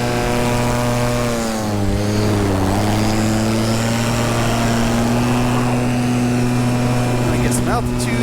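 Electric paramotor propeller in flight with a 14-meter free-ride wing, a loud steady droning hum that shifts pitch mid-climb, close and continuous with faint wind noise.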